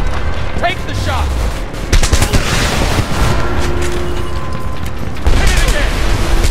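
Heavy gunfire from the Homefront video game: dense, continuous machine-gun bursts and rattling shots under a loud battle din, with occasional booms and shouted voices mixed in.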